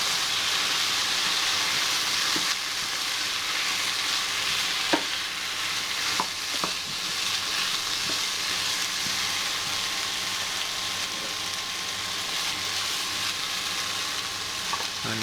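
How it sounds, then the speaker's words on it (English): Diced potato frying in a fry pan for a Burmese prawn curry, a steady broadband sizzle running throughout with occasional sharp clicks and scrapes of stirring, close and fairly loud with no talking. "So you've drained the diced potato, put it into the fry pan,"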